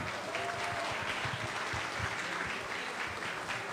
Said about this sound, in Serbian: Molim da i nju pozdravimo jednim aplauzom.